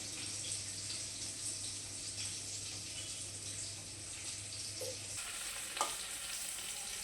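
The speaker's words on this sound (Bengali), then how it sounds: "তো মাছগুলোকে একটু কড়া করে ভেজে নিচ্ছি, খুব কড়া না, হালকা ফুলকা কড়া করে ভেজে নিচ্ছি" Fish pieces frying in oil in a pan, a faint steady sizzle with a low hum underneath that drops out partway, then a short clatter, close but quiet.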